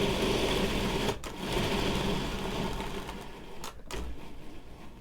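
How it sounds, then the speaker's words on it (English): A food processor loaded near its maximum whirs loudly and steadily while chopping walnuts with honey, with short breaks between pulses. "to where we're loading the food processor to max"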